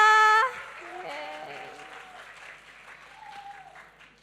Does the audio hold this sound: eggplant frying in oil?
no